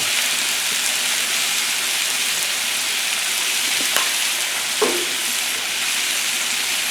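Goulash ingredients frying on a hot Blackstone griddle, a loud continuous sizzle with a couple of short scraping clinks as the food is tossed and turned, no voices.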